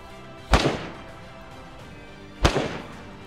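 Two sharp, loud gunshots from the survival game DayZ, spaced about two seconds apart, each a hard crack with a short decaying tail.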